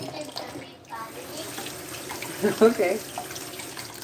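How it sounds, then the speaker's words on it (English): Tap water running over soaked lentils being rinsed, a steady low splashing with brief sharper splashes, under a voice speaking briefly. "it kind of had some clumps of yogurt still in there, so that's why I'm rinsing them"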